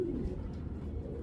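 A racing pigeon in a loft gives a low, steady cooing that runs continuously at modest volume, close by and without any voices over it.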